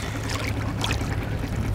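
A kayak is paddled across open water, giving a continuous soft wash of splashes and trickling drips from the blade, close and fairly even, with no voices.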